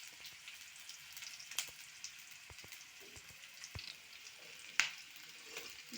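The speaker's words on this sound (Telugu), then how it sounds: "ఇటువంటి ఆనియన్ అయితే వేగిపోయింది." Onions frying in a pan while a Telugu home cook prepares an easy two-egg dish, giving a steady soft sizzle with scattered sharp crackles and pops, close and without talk.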